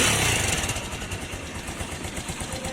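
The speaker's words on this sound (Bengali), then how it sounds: "তো বন্ধুরা বাইকটির ইঞ্জিনের সাউন্ড শুনতেছেন" A TVS Stryker 125cc motorcycle engine runs steadily close by, a continuous buzzing idle with a fast pulsing rhythm and no voices.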